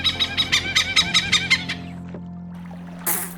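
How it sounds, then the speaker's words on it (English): Hornbill calls in a Sabah rainforest on Borneo: a rapid series of about a dozen loud, nasal honking squawks in steady rhythm, fading out, then a brief burst of hiss at the end. "Sometimes we can also hear the squalls for hornbill."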